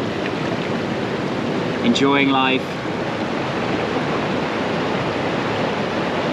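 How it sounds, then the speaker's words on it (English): Steady rushing water from a waterfall at Hampi, India, a continuous broadband roar heard close and constant throughout, with a brief spoken phrase and a short whistle-like tone partway through. "Chilling here by the waterfalls."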